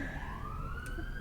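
Emergency siren passing outside, a rising wailing tone heard at a distance over a low background rumble, steady and moderately faint.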